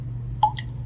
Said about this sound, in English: dripping water. That's pretty cool.